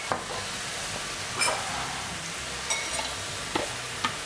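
Beef rib meat with fish sauce, oyster sauce and seasoning is stir-fried in a pan for Thai basil stir-fry, giving a steady close sizzle broken by a few sharp scrapes and clinks of the spatula.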